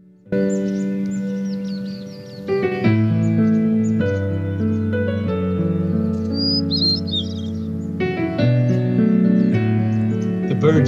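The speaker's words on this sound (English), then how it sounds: "The birds you hear are on the music CD." Birdsong from a music CD, played back indoors, with chirps and tweets woven into a steady tonal music track that runs almost continuously at a moderate level.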